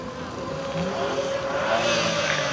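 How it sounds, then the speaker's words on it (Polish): Two small Fiat 126p cars rolling in at a car meet, their engines making a steady, moderately loud hum that builds slightly as they approach. "właśnie wjechały dwa maluszki, tak zwane szerszenie."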